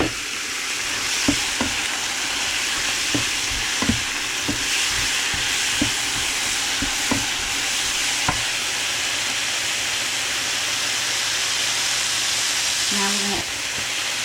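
Shrimp sizzle steadily in a hot pan with sauce, shiitake and oyster mushrooms, a continuous close frying hiss broken by occasional clacks of a utensil stirring.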